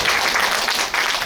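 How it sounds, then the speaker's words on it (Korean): Applause from an audience at a summer poetry recital rises as a performer is introduced, a dense steady clapping filling the short moment, loud and close with no voices over it. "큰 박수 부탁드립니다."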